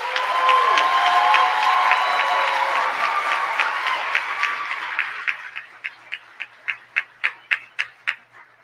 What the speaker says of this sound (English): let's give a round of applause for our Dean's List Scholars